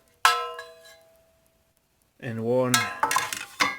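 Pans from a French M35 aluminium mess kit clink together: one sharp metallic clang that rings out and fades, then a pause, then someone speaks while a few lighter clinks sound beneath and after his voice.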